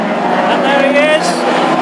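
A classic hot rod race car roars over the finish line at a national championship final at Hednesford, its engine loud and close, while a commentator talks over it throughout.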